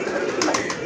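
A teddy-breed female pigeon coos from close by in a brief burst of soft, rolling low notes.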